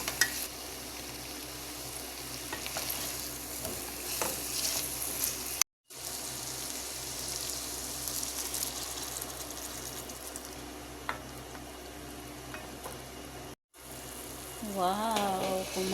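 Chicken straight from the freezer sautéing in a home kitchen pan, a soft continuous sizzle and crackle with a few brief gaps and a faint clink of stirring toward the end.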